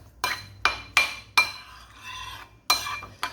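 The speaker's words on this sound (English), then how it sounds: "Then I'm going to stir this." A spoon stirring chia seeds into Greek yogurt in a bowl, with six or so sharp clinks against the bowl's rim and a soft scraping swirl between them, close and clear.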